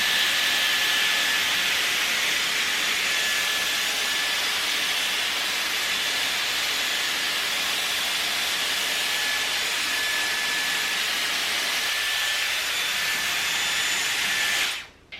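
A Dyson Airwrap hair styler blows at its highest heat and air setting, a loud, steady close-up whoosh and whine that holds evenly for the full length before cutting off abruptly at the end.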